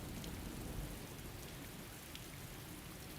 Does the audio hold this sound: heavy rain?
yes